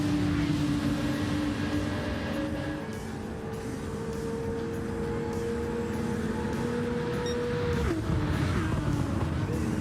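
Race cars in Gran Turismo 7 speed along the back straight at Monza with loud, continuous engine whine. The pitch climbs and holds through the gears, with a sharp shift near the end, and commentary runs over it.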